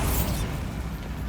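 A Bombarda blasting spell goes off in the Hogwarts Legacy video game as a loud, sustained explosive rumble with a sharp burst at the start, heard alone with no voices.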